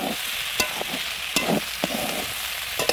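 Mola fish chorchori with mixed vegetables being stirred in a pan, a close, loud sizzle broken by several sharp scrapes and clinks of the spatula, no voices.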